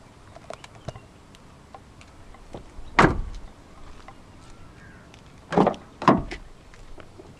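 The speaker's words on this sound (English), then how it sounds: "Like the rear doors, the front doors do open quite wide as well" Front doors of a 2016 Ford Ranger 2.2 4X4 XLT double cab swing open, giving three distinct close clunks of latch and hinge over quiet background, with no talking.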